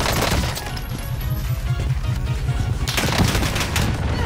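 Sustained rapid gunfire in the video game Warzone, loud and continuous automatic bursts filling the whole stretch, with a brief sharper flurry near the end.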